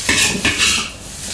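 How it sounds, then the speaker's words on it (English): Pineapple fried rice is stir-fried in a pan, with a metal utensil scraping and clattering against it in a few quick strokes, close and loud, with a faint sizzle underneath. "Continue frying until you feel that the rice is going to become a little drier"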